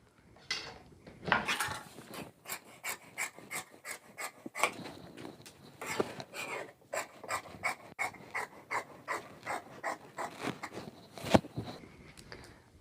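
Scissors snip through fabric being cut for palazzo pajamas, a quick series of crisp, rhythmic cuts close by, steady and fairly quiet with no talking.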